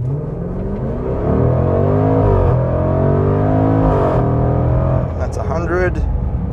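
A 2020 Range Rover Velar SVAutobiography V8 accelerates hard at full throttle from a standstill, its engine note rising loud and continuous through the gears, with a brief shift dip and a voice speaking over it near the end.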